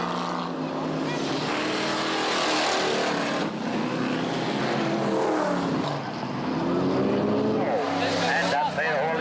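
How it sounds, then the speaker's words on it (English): Race cars roar past on a dirt racing track, loud engine drones rising and falling as they speed by, with a commentator's voice running over the noise. "come out to the track to exchange the thrill of the colored stone for the thrill of high-speed racing"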